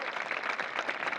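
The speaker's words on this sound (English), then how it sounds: "Big round of applause, please, for your top 3." Crowd applause for the top three drivers on the podium at a FIA Karting European Championship round in Valencia, Spain: steady, dense clapping from many hands, moderately distant and continuous, with no talking.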